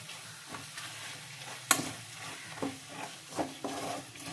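Fish pickle masala, with turmeric and chili powder in oil, stirred in a pan and starting to froth: soft scraping strokes over a low sizzle, with a sharper clack near the middle and a few spoon knocks after it. No voices.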